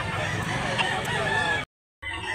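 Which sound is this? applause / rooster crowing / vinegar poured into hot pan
rooster crowing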